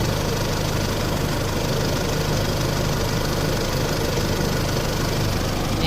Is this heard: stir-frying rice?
no